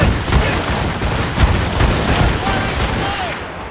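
Ship cannons in Assassin's Creed Rogue fire in a heavy rolling volley, booms overlapping into a continuous rumble, loud and close, with shouted crew voices mixed in.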